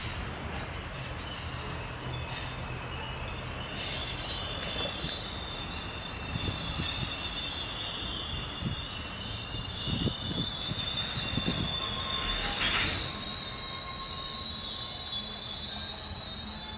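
A NYSW freight train rumbles past steadily for the whole stretch, with metallic wheel squeal and clanking of cars, no voices.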